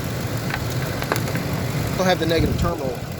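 A truck engine idling with the negative battery terminal disconnected, running only off the alternator; a steady low rumble continues beneath a person talking.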